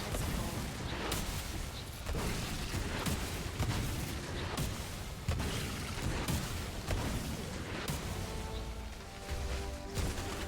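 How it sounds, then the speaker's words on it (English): Explosions in the video game Remnant: From the Ashes, a dense barrage of booming blasts and crashing impacts that rumble continuously and loudly. "Explosions!"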